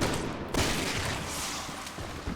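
Dense, continuous gunfire in Resident Evil 6 roars loud and unbroken for a couple of seconds, with a sharp burst near the start and a thick rumble of repeated shots.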